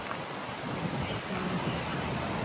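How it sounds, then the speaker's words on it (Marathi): Sea waves surge and wash against the shore at high tide on a rainy day, a steady broadband roar of surf with wind buffeting the microphone throughout, no clear voices. "लाटा पण उसळल्यात"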